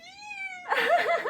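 A house cat gives a drawn-out, steady meow that breaks into a rougher, wavering yowl, close and clear with no talking over it.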